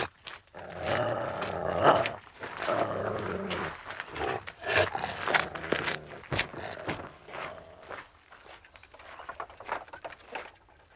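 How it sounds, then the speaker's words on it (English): A chained dog growls and snarls in low, rough bursts, close and fairly loud, with shuffling movement and chain-like rattles around it over several seconds. "such dogs are seldom vicious. I'm surprised that Roy needs chaining at all"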